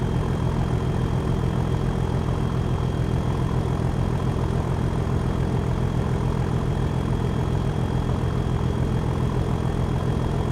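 A Class 37 diesel locomotive in Train Sim World 4 drones continuously under heavy throttle, its deep rumbling engine note loud and steady throughout with no voices.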